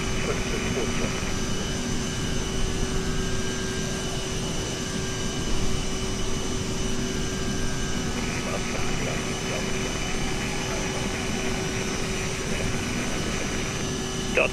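A CRJ-900 jet in Microsoft Flight Simulator 2020 runs its engines steadily at takeoff, a constant loud whine and roar holding throughout while radio voices talk over it.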